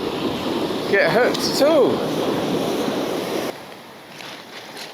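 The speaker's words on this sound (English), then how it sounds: "I'm shouting because I feel like the waves are really, really noisy." Surf from the English Channel washes in a constant roar on the back of the island during sea fishing, loud under someone speaking over it, before the noise drops away abruptly near the end.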